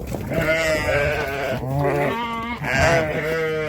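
Cheviot sheep and lambs bleating in a pen during footbathing and a health check, with loud, overlapping wavering bleats close by, one after another with no pause.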